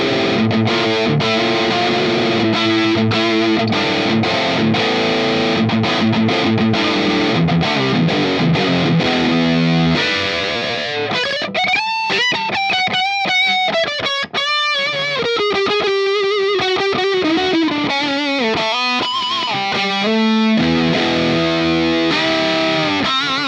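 Electric guitar plays through a Flattley Reaper distortion/overdrive pedal, loud and saturated: chugging chords at first, then sustained bending lead notes with vibrato, alone without voices.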